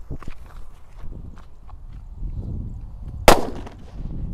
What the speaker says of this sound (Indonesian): Kita mulai menyalakan mercon yang beledosnya banter-banter ya.